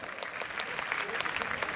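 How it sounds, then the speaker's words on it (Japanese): Stadium crowd applauding the eight teams in a high school boys' 4x100 m relay final at a Chiba prefectural athletics meet, a dense, steady patter of many hands clapping at a distance with a faint voice underneath. "さあまずこの8チームに大きな拍手をどうぞ。"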